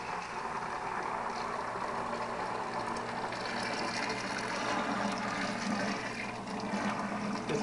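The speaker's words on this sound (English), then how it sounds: "Put our wort, as it's called, into our primary" Beer wort pouring into a plastic primary fermenting bucket during home brewing, a steady continuous splashing rush of liquid that stays loud and even throughout with no talk.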